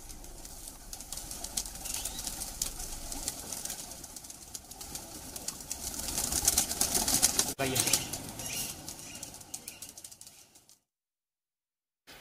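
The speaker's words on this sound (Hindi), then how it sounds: "उनके पास कबूतर की कई किस्में हैं जिनकी कीमत लाखों रुपए में है" Pigeons of a prized breed coo and flutter in a lofts setting, a soft continuous murmur of cooing with wing flaps, swelling midway before cutting to silence near the end.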